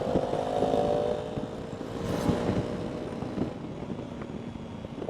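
A 2025 KTM Duke 390 motorcycle engine runs steadily at high revs, a continuous buzzing drone that swells slightly and then settles, with no talk over it.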